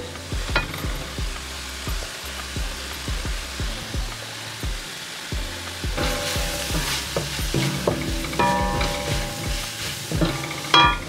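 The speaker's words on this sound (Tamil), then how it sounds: "கடைசியாக இந்த மணத்தக்காளி கீரையை சேர்க்கிறேன்." Manathakkali greens (black nightshade) fry in a hot pan for a seafood meal, giving a continuous close sizzle with repeated stirring scrapes and knocks that grow louder and busier toward the end.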